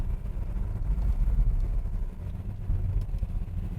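A 1969 Chevrolet Camaro with a 4-speed manual drives along, its engine a low, steady rumble heard from inside the car with no talk.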